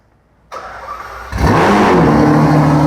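A Ferrari 812 V12 fires up from cold: a sharp starter catch, then a loud surge into a deep, close, steady high-idle roar with no talking.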